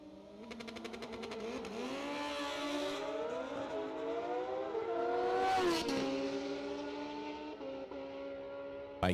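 A drag racing motorcycle launches down the strip at a drag racing finals event, its engine wailing upward through several rising, shifting pitches and fading toward the end, heard from a distance with no talk.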